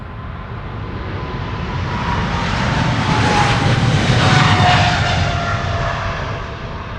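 A KLM Boeing 777-300 departs Amsterdam Schiphol, its jet engines swelling into a loud roar that peaks midway and then eases slightly as it passes, with a faint whine riding on top.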